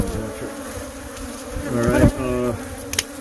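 A dense, continuous buzzing of many bees nesting in an RV, heard up close and alone, with a brief louder surge near the middle and a short knock toward the end.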